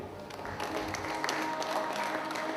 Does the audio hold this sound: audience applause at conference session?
yes